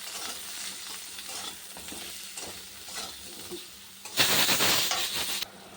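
Pointed gourd (potol) frying in hot oil with salt and turmeric gives a steady close sizzle broken by scraping stirs, then a louder, brighter hiss swells near the end before easing off.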